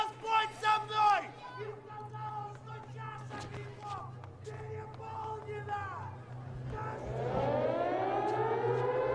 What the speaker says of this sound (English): That siren can only mean one thing.